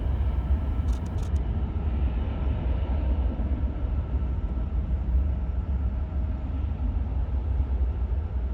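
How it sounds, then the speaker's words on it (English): A plane on approach to land at Reagan airport rumbles steadily in the distance, a low continuous drone over open outdoor ambience near rail tracks. "A plane coming in for a landing at Reagan also makes a brief appearance here."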